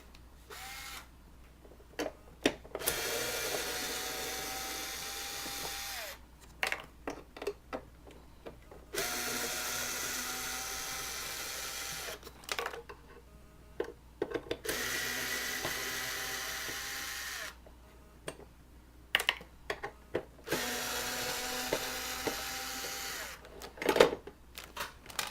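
A metal panel holding a pole is unscrewed with a powered driver, heard as four long, steady whirring bursts of about four seconds each, separated by short pauses and faint handling clicks, fairly close, with no talking.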